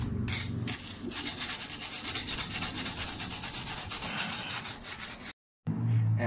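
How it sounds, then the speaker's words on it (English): A wire brush scrubs dirt off bare metal on a 2005 Ford Expedition chassis being fitted with a small-block 350 and NV3500 transmission, a steady close rasping scour running several seconds before a brief pause and restart. "I'm gonna hit it with this here wire brush, clean up the little bit of dirt that's on there"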